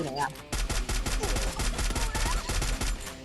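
Sustained automatic gunfire in the mobile shooter Free Fire, a fast rhythmic string of loud, close shots under excited shouting.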